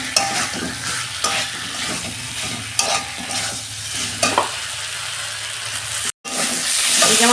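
Potatoes and pointed gourd stir-fried in a pan, steady sizzling broken by a few scraping stirs of a spatula, close and moderately loud.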